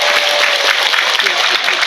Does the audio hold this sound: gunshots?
no